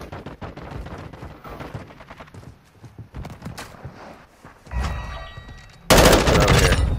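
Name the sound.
gunfire in Call of Duty: Modern Warfare 2 video game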